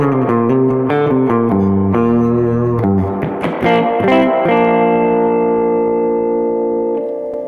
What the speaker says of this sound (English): So that's the sound of the amp in clean mode.